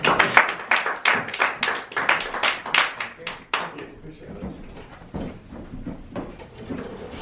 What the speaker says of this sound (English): Please give us a warm round of applause for Tyler.